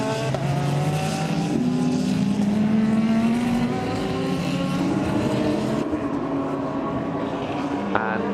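Mercedes GT race cars scream around the China GT Championship track at Zhuhai, high engine notes rising and falling as cars pass close together, loud and continuous, with faint commentary voices underneath.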